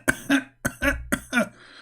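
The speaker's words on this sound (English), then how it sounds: "I don't know how many times I need to cough to explain to you" A man coughs three times in quick succession, each a harsh, close, loud burst split into two parts, with no talking.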